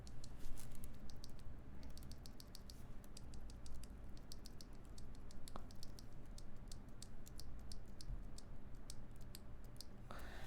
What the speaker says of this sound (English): we're currently comparing these Lavender switches